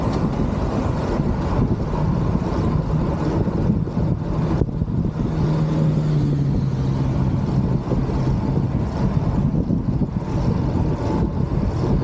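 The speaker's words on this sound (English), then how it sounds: "Fast moving car coming." A fast car overtakes a cyclist on a road during a 100 km ride, its engine tone swelling and sliding downward as it passes mid-clip, under steady wind roar.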